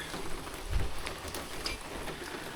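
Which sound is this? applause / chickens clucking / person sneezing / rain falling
rain falling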